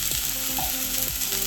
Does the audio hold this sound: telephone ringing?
no